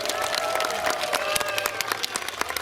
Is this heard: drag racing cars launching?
no